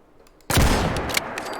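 A single loud, booming shot from an M203 grenade launcher mod in Fallout 4, a sudden blast that rings out and decays over a second.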